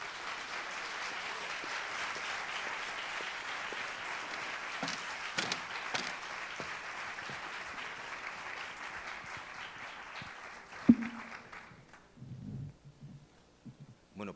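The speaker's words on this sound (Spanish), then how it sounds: "pediros" Audience applause for Miguel Pedrero at the close of a conference talk on God's existence, a steady dense wash of clapping that thins out and fades after about eleven seconds, with a few scattered claps and faint sounds at the end.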